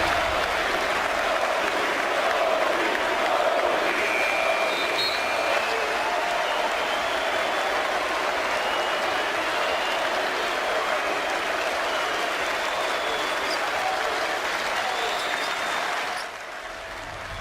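Arena crowd cheering and applauding at an NBA basketball game in New Orleans, a loud, continuous roar of clapping and voices that holds steady for a long stretch before easing slightly at the end.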